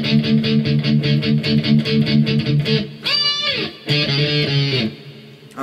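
An electric guitar plays a distorted fill from a song, with fast repeated picked notes followed by a bending, sliding run and a final sustained chord, close and loud with no talking.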